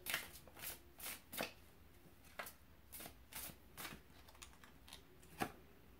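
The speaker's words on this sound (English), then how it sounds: "I actually want to pull another card from the Fairy Tarot deck" A Fairy Tarot deck being shuffled by hand, with quick riffling bursts in an uneven rhythm that repeats about a dozen times, close and fairly quiet with no talking.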